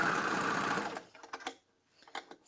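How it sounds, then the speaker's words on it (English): A sewing machine stitches over bag straps with a close, loud, steady whirring run that stops abruptly, followed by scattered mechanical clicks and knocks as the fabric is adjusted. "I'm just sewing over the straps as I go"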